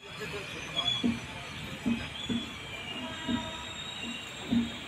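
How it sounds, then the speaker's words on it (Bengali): The Saraighat Express passenger train rolls on rails out of New Bongaigaon Junction, a steady rumble with rhythmic wheel thumps and faint squeals heard from inside the carriage, with voices in the background. "Saraighat express new Bongaigaon junction ছেড়ে আমরা চলেছি এবার আমাদের নেক্সট ডেস্টিনেশনের দিকে"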